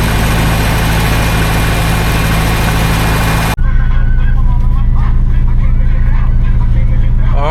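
An old minitruck engine idles after restarting, a loud, close, rough rhythmic chugging that continues through a sharp cut partway, with a brief speaking voice over it.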